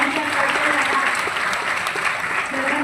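A room full of people claps loudly and continuously, a dense even wash of applause with a voice faintly under it.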